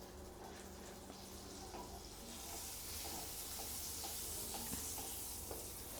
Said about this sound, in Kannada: ಇದನ್ನು ಇವಾಗ ನಾವು ಸ್ವಲ್ಪ ಬಟರ್ ಹಾಕಿ ಫ್ರೈ ಮಾಡ್ಕೊಬೇಕು.